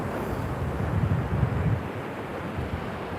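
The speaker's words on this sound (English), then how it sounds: "Look how beautiful it is here, Myrtle Beach in the morning." Ocean waves at Myrtle Beach in the morning, heard as a steady low rushing wash with a broad surge in the middle, mixed with some wind buffeting on the microphone and no talking.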